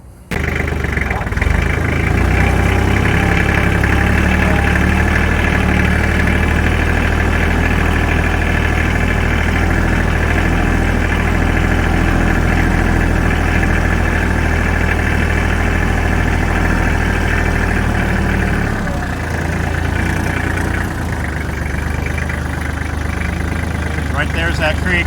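A tractor engine runs steadily and loudly throughout, a close continuous diesel-like idle and drone near a creek and soft garden soil, with a brief dip in level near the end.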